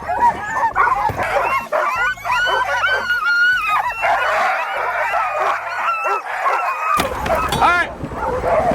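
Several sled dogs in Alaska barking, yipping and whining excitedly together, loud and close, in a continuous overlapping chorus.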